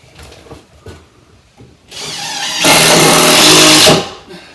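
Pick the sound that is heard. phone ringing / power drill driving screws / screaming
power drill driving screws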